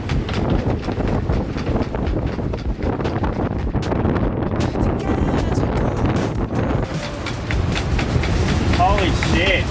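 Strong warm wind gusting across a sailing boat crossing the open sea, a dense roaring rumble buffeting the microphone continuously, with creaks and splashes mixed in and voices speaking now and then underneath.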